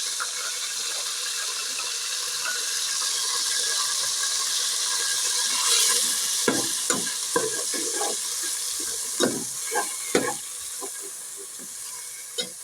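Chicken frying in a pan after cumin seeds, a steady hiss and sizzle with stirring clatter and scraping knocks of a spoon against the pan, growing busier in the second half, close and moderately loud.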